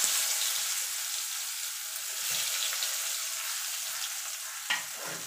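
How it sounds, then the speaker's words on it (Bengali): Onions frying in hot oil with cumin and whole spices for an egg and spinach curry, a steady bright sizzle with occasional stirring scrapes and one sharper clatter near the end, no talking. "পেঁয়াজটাকে একটুখানি লাল লাল করে ভেজে নেব"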